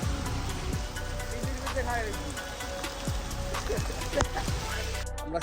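Rain pours down steadily, with drops pattering and splashing close by on surfaces while other sounds of movement and chirps come through the constant wash.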